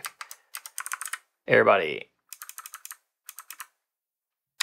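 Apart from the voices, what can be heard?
typing on a computer keyboard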